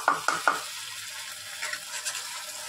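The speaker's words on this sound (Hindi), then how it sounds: "और जैसे ही प्याज हल्की सी भून जाए इसमें डाल दीजिए मसाला जो हमने पीसा था।" Three quick scraping clacks of a utensil in a pan, followed by a soft, steady sizzle of onions frying.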